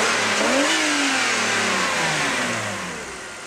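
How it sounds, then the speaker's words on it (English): A warmed-up BMW E46 Touring with an M54 engine gets a single rev: the engine note climbs quickly, holds briefly, then falls back toward idle, loud and close with no talking. "It is warmed up, so I'll just give you a bit of a hit."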